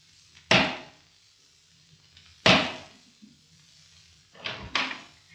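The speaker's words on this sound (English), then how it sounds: "who should come knocking at the door but Eeyore." Sharp raps on a wooden door, several isolated knocks spaced apart, with a quick double knock at the end, close and fairly loud.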